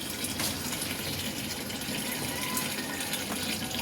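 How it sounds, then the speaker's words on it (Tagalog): Water pours steadily from the loose drain rubber of an automatic washing machine, a continuous broadband gush and splash at close range with no voices. "Yun, tumatapon yung tubig niya dun."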